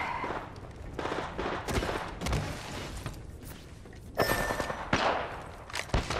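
Rapid bursts of automatic gunfire crackle in a firefight in the Apex Legends battle royale game, with sharp overlapping shots and thuds coming in dense clusters, loudest near the middle and end.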